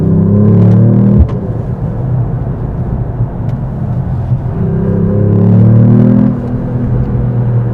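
A Mercedes-AMG E-Class car accelerates uphill on the Autobahn at around 80 km/h, a loud, steady in-cabin engine drone and road rumble whose pitch climbs, drops at a shift, then climbs again.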